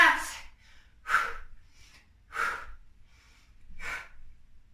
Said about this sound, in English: Notice these deep breaths.